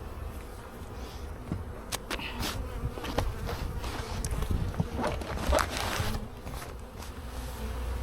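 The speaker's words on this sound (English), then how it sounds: "So this is my one hive that's busy." Bees buzz around a busy beehive outdoors, a faint, continuous drone broken by individual insects whizzing close past.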